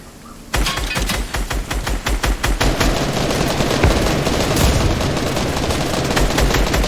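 Rapid automatic gunfire in a video game battle, loud and close, a dense burst of shots that begins abruptly and keeps rattling with continuous echoing fire underneath.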